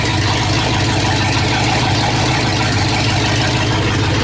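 An engine idles steadily after a fuel leak at the fuel filter was fixed, a loud, even, continuous rumble heard close up with no talking.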